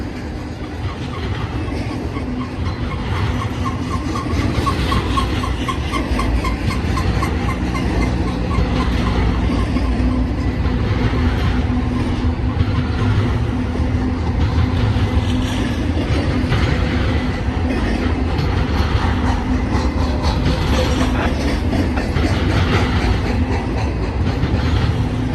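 A long BNSF freight train rumbles steadily past at moderate distance, a low continuous roar with faint rhythmic clacking of wheels over rail joints.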